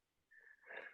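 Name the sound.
sneeze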